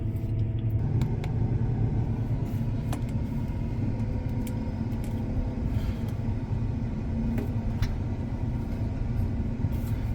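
A combine harvester's engine drones inside the closed cab as a low, even rumble, fairly quiet and continuous, with a few faint clicks and no speech.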